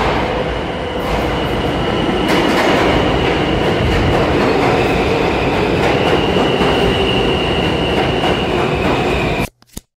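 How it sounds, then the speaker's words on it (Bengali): A train rumbles in and passes close by in an American city, a continuous loud roar of wheels on rails with clattering, faint squeals and occasional clanks, fading out sharply at the end. "অলরেডি ট্রেন চলে আসছে।"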